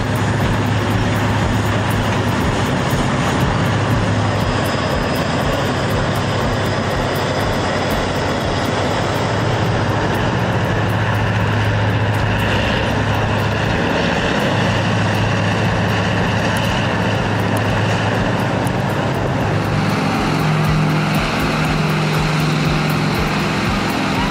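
An excavator's engine roars in a deep, steady, continuous drone that stays loud and even throughout, with no talking.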